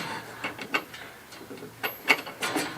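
A spanner winding a rainwater tank strap tight through a ratchet tensioner, giving a series of irregular metallic clicks and ratcheting bursts, close and moderately loud, with no talk.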